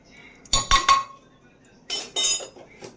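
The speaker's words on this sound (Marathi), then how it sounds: "पाण्यामध्ये मी हे चमचा भरून मीठ घालत आहे" Two quick bursts of a metal spoon clinking against a pressure cooker as salt is added to water, a short pause between them, then a faint tap; no talk.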